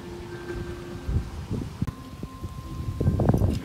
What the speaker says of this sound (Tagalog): Sobrang mahangin talaga.